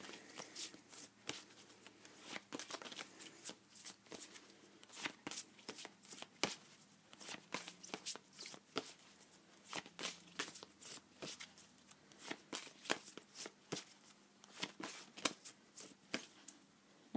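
Tarot cards are shuffled by hand, a soft, close series of riffling bursts and flicks repeating irregularly for a long stretch with no talk.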